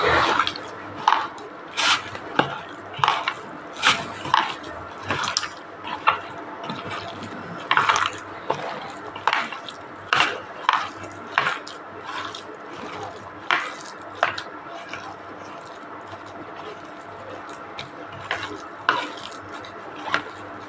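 Boiled potatoes are mashed and mixed into a cabbage curry with a spatula, giving repeated wet squishing scrapes against the pan in an uneven rhythm, close and clear with no talk.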